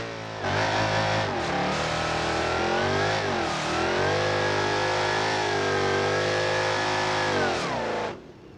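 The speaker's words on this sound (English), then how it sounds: "I need to see if it does a burnout." A Hellcat-powered police car in BeamNG.Drive revs hard in a sustained, loud engine roar during a burnout attempt, pitch rising and holding near full throttle for several seconds before cutting off abruptly.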